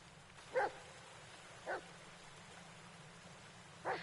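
A dog barks somewhere in the dark forest of the video game Blair Witch, three faint, distant single barks spaced a second or more apart over a low, steady ambient hum.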